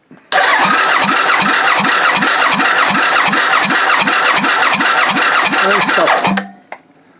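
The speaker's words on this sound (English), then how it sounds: "Right, off you go, Eric, do the crank." An old motorcycle engine with its barrels off for examination is cranked over steadily during a compression test, loud and close with a fast even rhythmic chug for about six seconds, then stopping.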